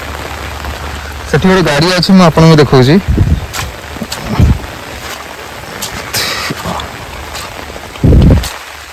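Rain falls steadily over a village, a soft hiss under a man's speech, with a few heavy low thumps along the way.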